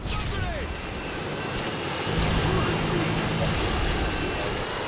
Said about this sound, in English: Enemy Harrier incoming.